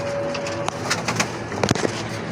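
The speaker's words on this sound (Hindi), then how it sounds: "ये देखें, ये भी कबूतर है।" Pigeons in a loft cooing softly, a few low throaty coos and scattered short calls with light rustling, close by and moderately quiet.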